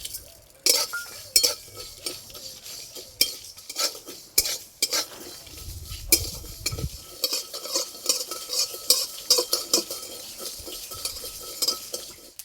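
Whole cumin, coriander, panch phoron and black mustard seeds stirred in a hot pan for a raw mango pickle, with irregular scraping and clinking of a spoon against metal over a faint sizzle, close and intermittent.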